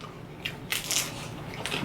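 Crunchy Chipotle taco shells being bitten and chewed at close range, with a few short brittle crunches spread over a quiet background.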